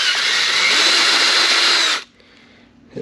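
Power drill deburring a bolt hole to a tapered edge while fitting a trailer fender on a Kawasaki Versys X: a loud, steady high whine for about two seconds, then it cuts off abruptly.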